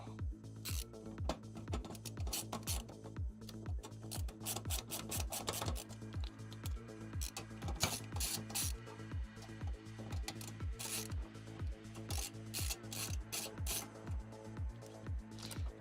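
Rhythmic mechanical rasping during a computer repair, repeated short bursts of grinding and rubbing at a steady fast pace, like a screwdriver turning screws, close and fairly quiet, with no talking.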